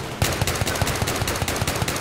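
Gunfire from a single-shot weapon in the video game Battlefield 3, heard as a loud, close, steady run of rapid shots, roughly five per second, over a dense battle background for about two seconds.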